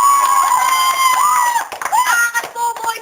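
An audience applauds and cheers for a contestant in a group event, a steady wash of clapping and shouts that thins and resumes in bursts, with voices mixed in.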